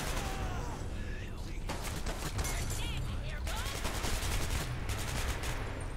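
Assault rifle fire in the video game Hatred, heard as rapid, rattling bursts of automatic shots over a dense, noisy game backdrop, with a voice talking faintly at times.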